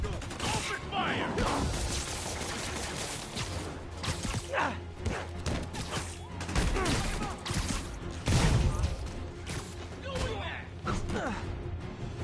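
Enemy gunmen in a Spider-Man video game fire in a steady, dense barrage. Rapid shots run together with whooshes and thuds under a busy, loud action mix.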